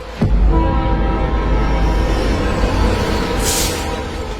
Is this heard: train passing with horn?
yes